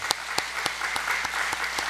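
A church congregation at a Friday prayer meeting applauds the worship team, steady dense clapping with a faint regular beat running through it.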